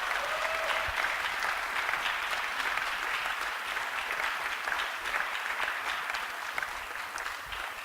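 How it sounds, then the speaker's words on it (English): A room of people applauding honorees at a university gathering, even and continuous clapping at moderate distance that keeps a steady level from start to finish without speech over it. "So let's give a round of applause to these people that are listed up here."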